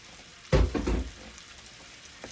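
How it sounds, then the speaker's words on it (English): Potatoes dropped into a hot pan for a hearty farm-style hobo casserole, giving a sudden loud hiss and crackle of frying that quickly settles into a quieter, steady sizzle. "So we're going to throw our potatoes in there and get them frying."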